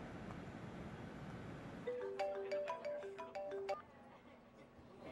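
A telephone ringtone chirps in a quick melodic pattern for a couple of seconds over a steady background hiss, fairly faint, as a phone call is being placed.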